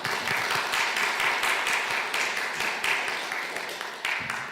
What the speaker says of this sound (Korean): 이준하 전사님 인사드릴 때 박수로 환영해 주세요